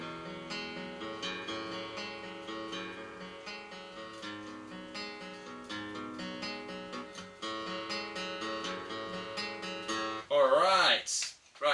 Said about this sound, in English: And that's the verse riff. So it sounds like this,